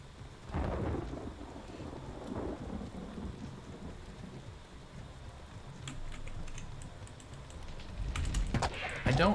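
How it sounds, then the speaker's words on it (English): Rumbling thunder with rain from a lightning storm in the video game Diablo 2 (version 1.0), booming in low swells across the clip with crackling bursts near the end, no talk. "Oh goodness, the lightning."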